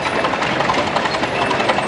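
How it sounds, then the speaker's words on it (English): An Advance Company steam traction engine, rated around 16 horsepower, chugs along in an antique farm-fair parade in Oregon, a loud, steady rumbling and clattering mechanical roar close by with no talking. "We have another little steam traction engine coming up there."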